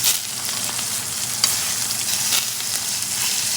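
A 21-day dry-aged ribeye sizzles steadily in a cast iron pan while butter is basted over it, a dense continuous frying hiss with brief louder spatters, close and alone with no talking.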